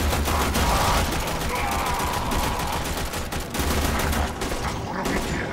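Rapid gunfire crackles almost without pause through a Warframe firefight on Mercury, a dense near barrage that stays loud throughout with no clear speech over it.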